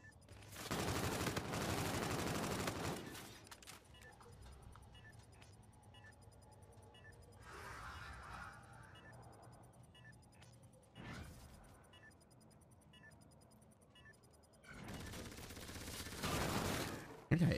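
Video game gunfire from an online 2v2 match erupts in loud bursts, with a heavy sustained volley at the start, shorter rattling shots in the middle and another intense burst near the end, with quieter game noises between.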